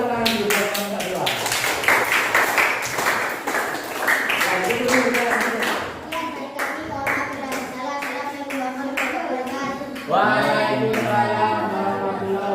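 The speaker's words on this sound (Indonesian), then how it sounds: "Silakan tepuk tangan dulu buat kelompok 2." A seventh-grade classroom claps for a student group, giving sharp, separate hand claps mixed with students' voices talking over them, and a louder burst of chatter near the end.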